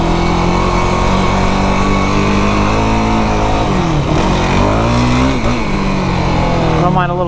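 A Yamaha YFZ 450R ATV engine runs loud and close, holding a steady drone before revving up and down in rising and falling sweeps, with a brief surge near the end.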